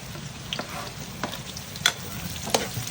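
Onion sautéing with garlic in a pan for ginisang munggo, a soft continuous sizzle with a few sharp utensil clicks and scrapes, close and moderately quiet, no voices.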